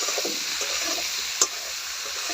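Vegetables fry in a pan with a loud, continuous close-up sizzle, broken once by a brief clink of stirring.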